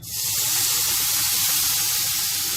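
A loud, steady hiss of bubbling sizzle erupts as water hits hot caramel in a pan, continuing strongly without pause and with no voices.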